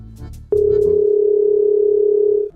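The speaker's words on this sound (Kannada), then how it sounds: "ಲೇ ವಿನ್ಯ ಎಷ್ಟ್ ದಿನ ಆತ್ಲಿದ ಫೋನ್ ಹಚ್ಚತ್ರ ರಿಸೀವ್ ಮಾಡತ್ತಿಲ್ಲ" A phone call tone sounds as one steady, loud, unbroken note lasting about two seconds, after a moment of faint background sound.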